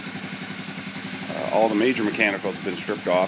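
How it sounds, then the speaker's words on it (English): A 1986 Honda Big Red 250 ES three-wheeler engine, stripped of most parts after frame damage, idles steadily with an even low rumble beneath someone talking over it. "as you can hear, it runs perfectly. No noise in the engine whatsoever."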